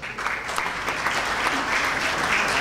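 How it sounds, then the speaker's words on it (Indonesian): Applause from new university students at a public lecture, dense clapping that swells slightly and holds steady, fairly loud and close. "Tepuk tangan dong."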